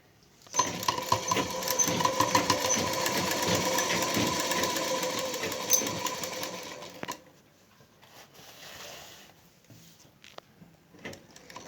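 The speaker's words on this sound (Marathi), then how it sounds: "मी टिप मारून दाखवते तुम्हाला आता" A sewing machine stitches along chalk markings on a dress, running as a steady, rapid mechanical whirr for about six seconds before stopping, followed by quieter handling noises.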